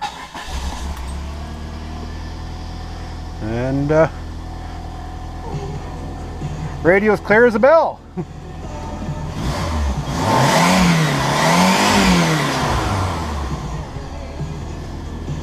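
A Lemons race build car's engine fires up and revs in rising and falling swells, loud and close, with a steady idle rumble throughout and someone talking briefly over it.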